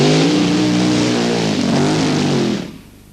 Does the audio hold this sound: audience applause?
no